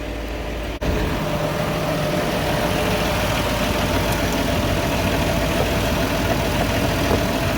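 A farm tractor, hot from a full day of mowing, idles steadily nearby with a constant loud rumbling drone, broken only by a sharp click near the start.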